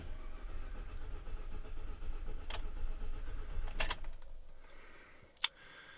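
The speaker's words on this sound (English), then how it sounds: "to prime the system, all you do is put your foot all the way down on the gas and turn it over" A Ford EcoBoost truck engine turning over on its starter with the throttle held down to prime the oil, a steady, close cranking rumble for about four seconds, broken by sharp clicks, then fading to a quieter hum.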